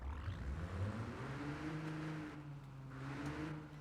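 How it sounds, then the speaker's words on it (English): A low, rumbling flathead V8 in a classic Ford in Forza Horizon 4 at low revs, with pitch gently rising and falling as it idles and pulls, heard alone without talk. "that flathead V8 in these low revs sounds kind of like a diesel tractor"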